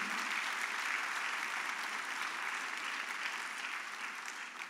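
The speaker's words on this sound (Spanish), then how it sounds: "Dale un aplauso al Señor." Steady, dense applause from a church congregation during a Spanish-language sermon, holding at an even level throughout with no voices breaking through.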